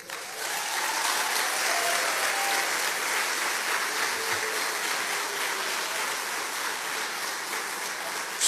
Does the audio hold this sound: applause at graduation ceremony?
yes